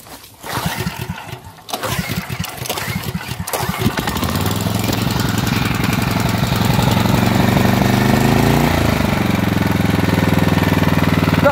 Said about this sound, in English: The idle control actually works.